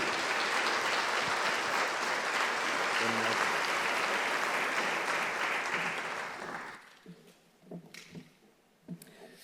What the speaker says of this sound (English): A round of applause for the Reverend Margaret Curry.